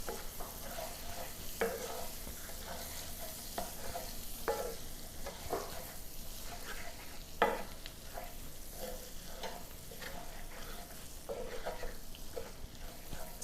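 Flour stirred a spoonful at a time into sizzling bacon and sausage grease in a pan, a steady close frying hiss with repeated spoon scrapes and taps against the pan, no talk.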